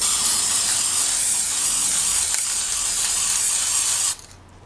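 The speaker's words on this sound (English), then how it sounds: "So shake that really well. I've already pre-shaken it, and I'm just going to spray." Gloss varnish hisses from an aerosol can in one close, continuous spray lasting about four seconds before cutting off abruptly, leaving quiet.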